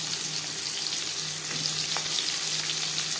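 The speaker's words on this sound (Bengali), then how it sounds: "পেঁয়াজ হালকা করে ভেজে নেব" Onion pieces fry in hot refined oil with a steady, close sizzle and light stirring, and no one talks.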